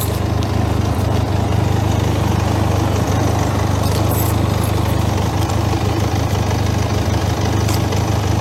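A motorcycle engine runs steadily nearby, a continuous loud low drone with a constant throbbing hum and no speech over it.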